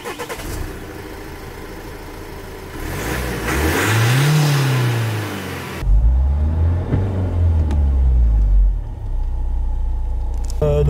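A Renault Laguna 3 car on a road test: its engine rumbles and revs up through rising and falling pitch sweeps as it accelerates, loud and close, with steady road noise throughout.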